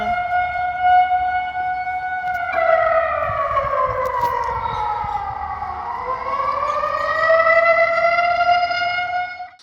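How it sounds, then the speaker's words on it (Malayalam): A civil defence siren sounds during a mock drill, a loud wailing tone held steady and then sweeping down and back up again, carrying on for nearly ten seconds over faint background noise. "മുതലമട പീമെട്രിക് ഹോസ്റ്റലിൽ സ്ഥാപിച്ച സൈറൺ 4 മണിയോടെ മുഴക്കിയിരുന്നു."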